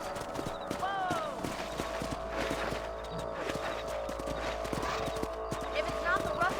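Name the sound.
horse hooves clip-clop, Red Dead Redemption video game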